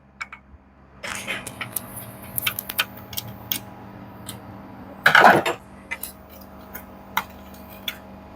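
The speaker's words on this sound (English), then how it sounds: "We have to remove these two screws." Screws are taken out of a Candy washing machine's control board, giving sparse metallic ticks and clinks, with one louder rattle partway through, all close and quiet.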